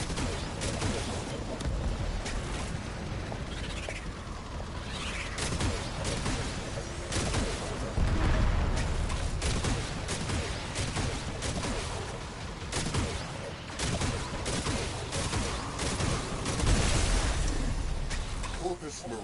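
Heavy ordnance booms and bursts from torpedoes firing in the video game Warframe, a dense, continuous barrage of loud explosions and rumbling impacts with a voice speaking over the battle din.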